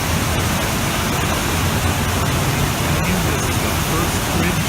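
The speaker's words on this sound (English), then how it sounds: "is the first bridge of the waterfall." Waterfall in Jasper National Park heard from a bridge, a loud, dense, steady roar of rushing water filling the whole clip without pause.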